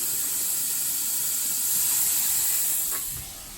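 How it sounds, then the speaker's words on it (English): Steady sizzling hiss of chicken cooking on a hot grill, close and continuous, with a faint clatter near the end. "Get in here a little more so you can see the sizzle."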